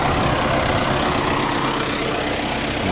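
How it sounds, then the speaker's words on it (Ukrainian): A tractor engine running steadily at a constant idle on a farm where a grain dryer is being set up, its low rumble and broad mechanical noise filling the whole stretch without a break. "завів трактора"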